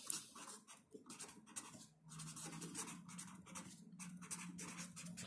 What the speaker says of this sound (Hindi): तो फर्स्ट मेथड मैं आपको लिख रहा हूं